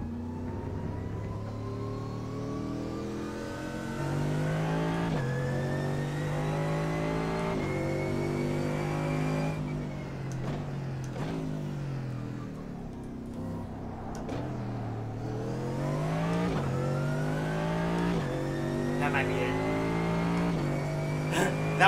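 A GT3 race car engine in the iRacing simulator at Spa-Francorchamps revs up and down through repeated gear changes, its rising whine dropping at each shift, loud and continuous throughout.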